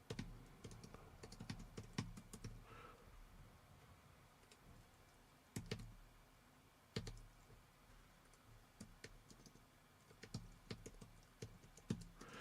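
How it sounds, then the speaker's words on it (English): Keys clatter on a computer keyboard in quick, uneven bursts with short pauses between them, close and fairly quiet, with no voice over the clicking. "Sorry, you guys got to hear me typing."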